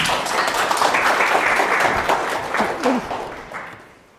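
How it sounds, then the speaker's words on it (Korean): An audience applauds a lecturer arriving for a disability awareness lecture at a provincial college in Chungnam, with dense, steady clapping that fades toward the end. "강사님 박수로 부탁드립니다"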